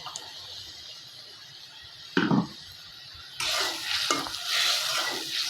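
Dried fish with winter vegetables is stirred in a pan, giving a soft sizzle under faint scraping. A louder clatter from the spoon comes midway, then a brighter frying hiss swells toward the end.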